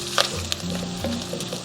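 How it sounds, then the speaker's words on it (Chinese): Pork belly stir-frying with shiitake, onion and ginger in a wok, a close steady sizzle broken by a few sharp scrapes and tosses of the spatula. "继续煸炒"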